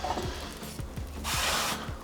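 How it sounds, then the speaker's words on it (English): Cooking spray, such as avocado or coconut oil, misted onto a frying pan in a home kitchen: one steady hiss lasting about half a second, close and fairly loud, over faint background knocks and handling. "spray your pan"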